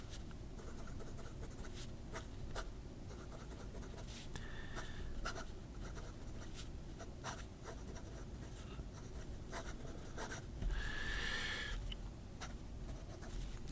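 Fountain pen with a number 8 steel nib scratching across paper in short faint strokes and pauses, a quiet close-up scratching with a couple of slightly longer squeaky strokes.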